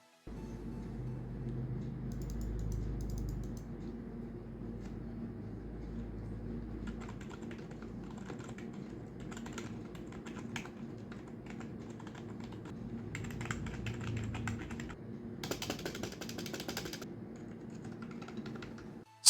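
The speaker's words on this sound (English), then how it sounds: "Now let me just give you a small sound test." Typing on a TKL gaming keyboard, a steady stream of close, crisp key clacks with denser bursts of rapid keystrokes, heard alone without talk.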